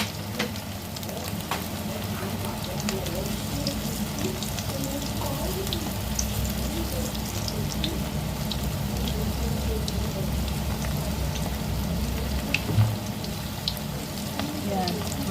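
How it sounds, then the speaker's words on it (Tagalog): Continuous crackling sizzle of pancit canton meatballs frying in hot oil over low heat, steady and fairly loud throughout with scattered pops. "Magprito na tayo."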